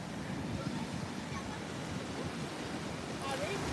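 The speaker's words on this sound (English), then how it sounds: "Do you hear the wind?" Steady gusting wind roars across the seashore with the wash of surf beneath it, a loud, unbroken blustery rush that swells slightly near the end.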